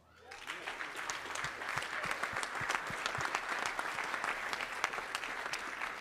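Sustained applause from a concert hall audience at an Army band trombone workshop concert, a dense wash of many hands clapping steadily for about six seconds after a quick onset.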